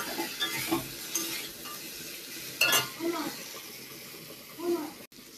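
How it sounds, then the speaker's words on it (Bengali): A spatula scrapes and stirs fish roe through a spice masala with Kashmiri red chili in a pan, soft sizzling under intermittent clinks and scraping, with a voice talking over it. "মাছের ডিমগুলো দিয়ে দিলাম। মশলার সাথে ভালো করে মিশিয়ে নেব"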